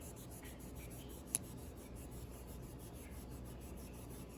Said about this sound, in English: I'll rub it real good.